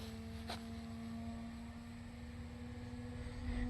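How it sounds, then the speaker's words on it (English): A Lazy Bee three-channel RC model airplane drones steadily in flight with a constant engine hum, moderately distant and faint, over outdoor background noise. "Rick, it's a cool plane."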